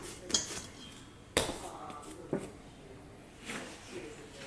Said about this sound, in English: Get my grease bowl ready.